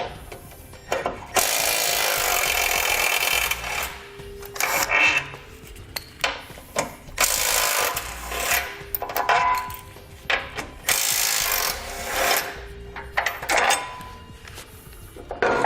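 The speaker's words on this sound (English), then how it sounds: "So we'll pull out the one nut that's right here using a 10mm socket. Then we grab a 15mm socket and we'll pull out the 3 bolts" A nut and three bolts are removed with 10mm and 15mm sockets while a Roadmaster crossbar-style base plate is fitted on a 2018 Jeep, giving loud, intermittent bursts of tool noise separated by short pauses.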